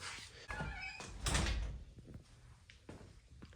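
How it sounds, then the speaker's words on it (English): A door is pushed shut indoors, giving one loud, close thud with a brief rattle, followed by quieter room sounds and a few faint knocks. "maybe if I shut this door"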